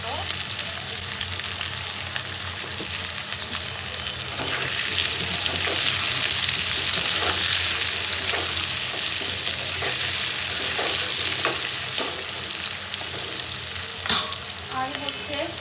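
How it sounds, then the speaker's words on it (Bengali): Potatoes, onion and fenugreek frying in a pan, giving a loud, steady close sizzle throughout, with soft stirring scrapes and occasional light taps of a spatula. "আলু পেঁয়াজ আর হচ্ছে কি মেথি একসাথে ভেজে নিব"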